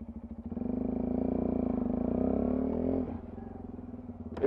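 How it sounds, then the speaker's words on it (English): A Sinnis Terrain 125 motorcycle pulls away smoothly in first gear, its small engine droning steadily at close range, then the note drops as it eases off near the end. "First gear pull away is lovely and smooth. Second's not too bad."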